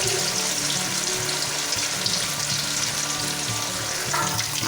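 Paneer pieces sizzle and fry steadily in hot oil in a kadai for chilli paneer, a loud, continuous close-up crackle with no talk.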